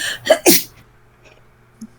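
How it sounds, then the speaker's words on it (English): A single sharp sneeze bursts out close by with a short breathy lead-in, then the room falls quiet apart from a faint brief sound near the end. "just sneezed. I tried to stop it, and then my face exploded"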